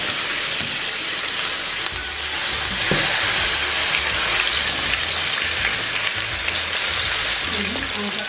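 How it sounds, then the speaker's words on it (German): Lamb meat frying in hot oil, a loud continuous sizzle with crackling and occasional stirring, steady throughout and without talk. "Das Öl ist ganz schön warm geworden, heiß geworden. Jetzt braten wir das Lammfleisch jetzt."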